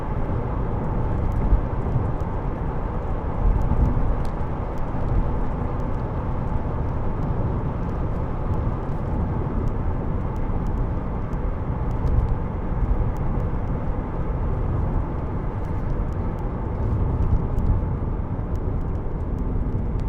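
Steady, droning cabin noise from a 2003 Alfa Romeo GTV 2.0 Twin Spark 16v cruising at 70 mph, with a constant low engine and road rumble throughout and no talk.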